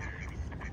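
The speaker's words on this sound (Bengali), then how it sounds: "ওই যে পাতি হাঁস গুলো আছে, দেখেন ওই যে ছোট ছোট গুলা, দেখছেন?" Ducks at a pond in Captain Tilly Park, Jamaica, New York, heard as a faint, brief quack against low background rumble.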